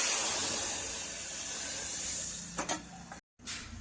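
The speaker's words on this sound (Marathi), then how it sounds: "आता मी वरणाला फोडणी देते।" Hot tempering with curry leaves poured into chukka varan dal gives a steady broad sizzling hiss with a few sharper crackles near the end and a brief cutoff, close and moderately loud, no talk.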